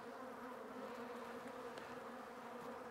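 A steady, dense drone of many honeybees buzzing together inside a failing hive, continuous and even throughout, fairly quiet and close with no voices.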